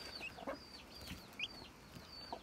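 Hens cluck in short, faint bursts at a home coop after chicks hatched, scattered soft calls over a quiet background.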